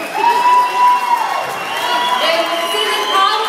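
A holiday party crowd breaks into cheering and applause, with whoops and excited shouts rising and falling over a few seconds of loud, close clapping.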